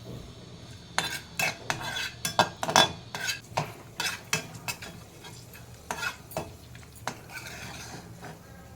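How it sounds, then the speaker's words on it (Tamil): Cashews fry in a little oil in a kadai, a steady sizzle under repeated metallic scrapes and clinks of a spoon against the pan, irregular and close, with no one talking. "இப்போ ஒரு கடாயை வச்சுக்கலாம் எண்ணெய் கொஞ்சமாக ஊற்றிக்கலாம் முந்திரி வறுத்த எடுத்துக்கலாம்"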